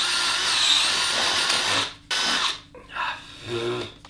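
A power drill whines loudly as it widens pre-drilled holes in homemade weight plates, running in a long continuous burst, then stopping and restarting in shorter pulses.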